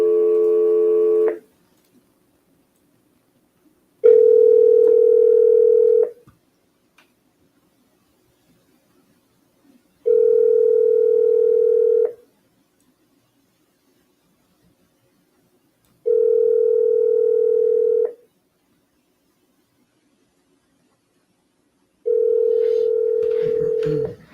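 An outgoing phone call on a cold call: a brief dial tone and dialing at the start, then a repeating ringback tone in long, evenly spaced pulses with silence between, ending in a click as the line picks up.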